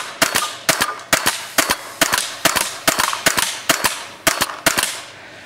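Tippmann X7 Phenom paintball marker fired with its stock barrel, about a dozen sharp, evenly spaced pops in a steady rhythm, loud and close with no talking.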